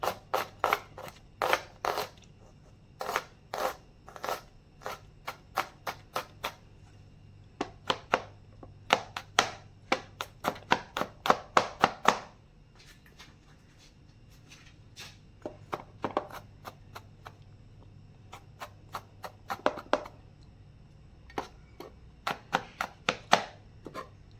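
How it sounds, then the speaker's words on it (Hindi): A knife roughly chops garlic cloves on a cutting board in quick bursts of sharp, crisp taps with short pauses between runs, close and fairly quiet, with no voices. "इसको भी रफली चॉप कर लें।"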